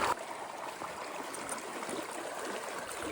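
River water rushes steadily at a log crossing in the Colorado wilderness, a continuous broadband flowing hiss that stays close and fairly loud throughout, with no talking over it.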